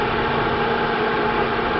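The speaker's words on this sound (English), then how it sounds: "Sorry for the fan, but it runs when the key's on." Car radiator cooling fan running with the ignition key on, a steady, even broadband whoosh and hum, loud and continuous up close with no pauses.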